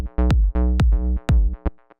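A melodic house mix runs through a saturator, giving a warm, thick sound with sustained harmonic chords and a punchy low kick pulsing roughly every half second, loud and up close.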